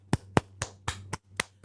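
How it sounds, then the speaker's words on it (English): Seven sharp hand claps from a single person, spaced evenly in a steady rhythm, close and distinct, with a low hum underneath. "let's clap it up for chat."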